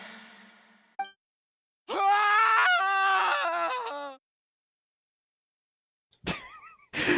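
A character in the video game Genshin Impact lets out a final scream: one drawn-out, wavering cry lasting about two seconds. It follows a short sound and is followed by silence and a brief, sharper vocal burst near the end.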